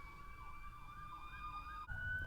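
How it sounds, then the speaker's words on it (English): A wailing emergency vehicle siren sweeps up and down outside a parked van, steady and moderately distant over low traffic rumble, shifting pitch near the end as it passes. "There's sirens"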